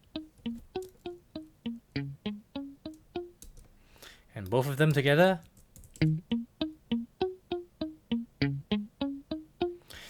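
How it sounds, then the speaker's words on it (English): Dry, unprocessed palm-muted electric guitar notes in a steady, clipped rhythm, loud and close, with a short burst of a brighter sustained sound in the middle before the muted pattern resumes; a voice speaks briefly. "electric guitar muted notes"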